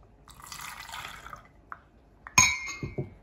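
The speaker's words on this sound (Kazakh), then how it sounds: "Осындай тониктен, лосьоннан босаған ыдысымызға құйып аламыз." Liquid splashes and trickles into an empty glass lotion bottle, with a sharp glassy clink partway through and a few drips after, close by.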